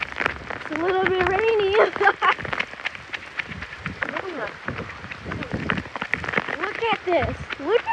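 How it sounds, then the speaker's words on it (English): Heavy rain lashing down during a derecho storm with wind gusts over 100 mph, a steady close hiss and patter filling the whole clip while excited voices talk loudly over it. "It's a little bit rainy."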